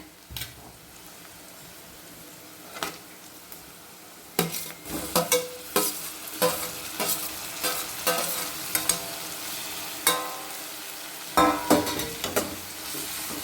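Tomatoes are tipped into frying onion masala for chicken varuval, followed by repeated clattering stirs and scrapes against the pan over a continuous sizzle, close and without talk.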